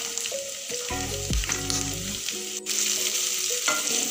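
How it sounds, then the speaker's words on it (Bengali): Chopped onions fry in a pan with ginger and garlic paste for a shop-style egg chop, giving a loud, steady sizzle broken by scraping stirs and a few clinks, with no talking. "পেঁয়াজটা ভালো করে ভেজে নেব।"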